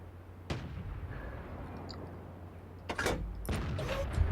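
World of Tanks artillery gun firing, a sharp boom early followed by further heavy blasts and mechanical clatter later, moderately loud against a low steady engine rumble.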